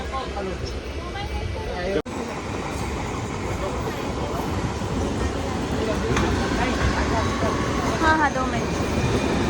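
The Goa Sampark Kranti train pulls out of Vasai Road station, heard from inside the coach as a building rumble with metallic squeals and rattles, a brief dropout near the start, and no voices.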